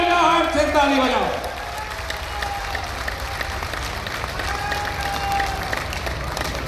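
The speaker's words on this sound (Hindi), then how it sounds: "अगर आप मेरे साथ सहमत हो तो तालियों की गड़गड़ाहट से ताली बजाओ।" A crowd at a political rally in Guna claps, a loud burst of applause that fades after a second into a lower, steady wash of clapping and crowd noise.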